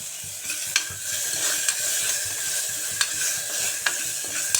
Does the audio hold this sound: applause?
no